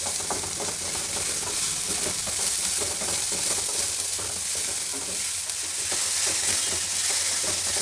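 Chopped onion tempering sizzles and fries steadily in a hot pan for ragi paddu, a continuous close crackle with stirring scrapes throughout and no talking.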